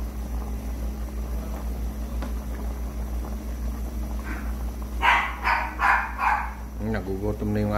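A hungry dog barks near a kitchen where sinigang na bangus is cooking, a few sharp yelps in a quick cluster over a steady low hum, ending with a short string of higher whining barks.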